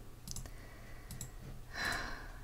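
Several sharp computer mouse clicks in a German League of Legends session, brief and close, spaced across quiet room tone, ending with a short breathy sigh.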